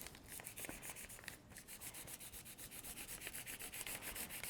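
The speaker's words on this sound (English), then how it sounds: "you're going to gently but firmly kind of rub the leaf" Crayon rubbing firmly back and forth across paper laid over a fall leaf, a steady rhythmic scratchy swishing of quick repeated strokes, close up with no talking.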